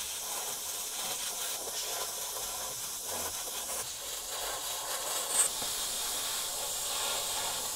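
Airbrush spraying paint past the edge of a blood-splatter stencil, a steady close hiss of compressed air that runs unbroken without talk.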